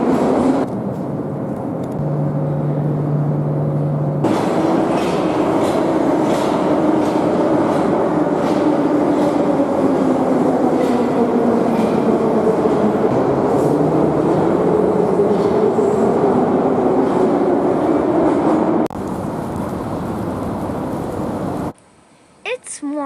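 A Saint Petersburg metro train rolls along with a steady rumbling roar and a faint rising-and-falling whine, loud and continuous, with a voice talking over it.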